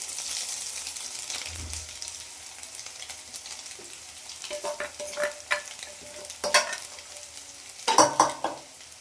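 Cooked blood pieces added to onions frying in a pan for a village-style spicy blood fry, with faint sizzling and several louder stirring scrapes and clatters building toward the end, no voices.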